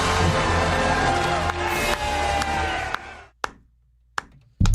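A crowd claps and cheers loudly in a dense roar during an Independence Day scene, then cuts off abruptly into near silence broken by a few sharp isolated knocks.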